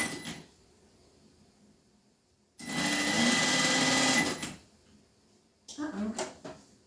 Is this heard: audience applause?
no